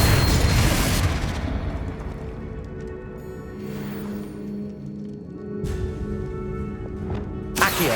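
Spell blasts from the Hogwarts Legacy video game, with a booming burst near the start and more sharp explosive pops around the middle and end, set over a low rumbling game ambience.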